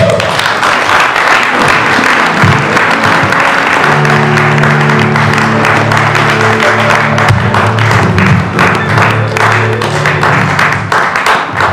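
Church congregation applauding steadily and loudly throughout, dense continuous clapping with sustained singing or organ-like tones layered underneath.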